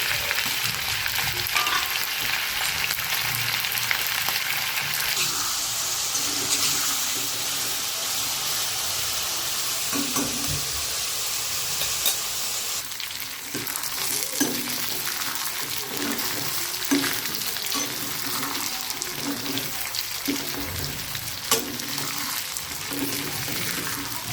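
Chicken pieces fry in a pan for a Nepali-style chicken curry, a steady close sizzle with occasional stirring clatters, with no talk.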